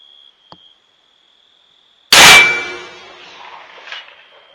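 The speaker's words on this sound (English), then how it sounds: "It's only about a 6-inch gong, so it'll be interesting to see if I can hit it." A rifle bullet strikes a small six-inch steel gong at about 395 metres: after near silence comes one sharp, loud metallic clang that rings on and slowly fades.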